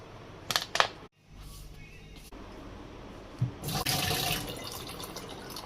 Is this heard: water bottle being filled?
yes